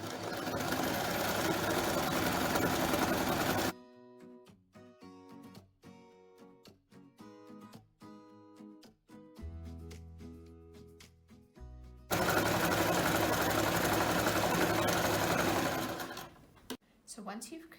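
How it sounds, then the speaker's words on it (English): Sewing machine running a stretch zigzag stitch along a fabric neckband for a pressure garment, with long steady whirring stretches at the start and end and a stretch of choppy start-stop stitching between them, under a speaking voice. "create a stretch zigzag stitch along the length of the middle of the neckband"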